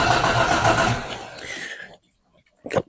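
A 1979 Ford Cortina engine cranks and catches in a loud, rough burst lasting about two seconds, then cuts to near silence before a brief sharp noise at the end.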